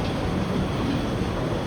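Steady, even rumble and rolling noise of a Taiwan MRT train on the airport line, heard continuously from inside the carriage with no talk.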